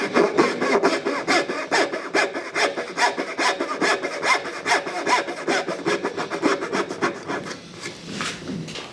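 A hand saw cuts slots into wood for wedged tenons in a steady run of quick, even back-and-forth strokes, close and rasping, slowing and fading near the end.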